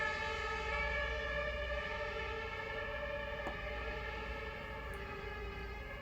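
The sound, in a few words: fire station siren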